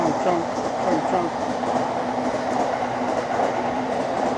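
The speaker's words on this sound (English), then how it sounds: "How horribly loud is the train to you guys?" A train rumbles loudly past on a Tokyo street, a steady, dense roar of wheels and rails with faint rhythmic clatter holding throughout at close range; no one speaks.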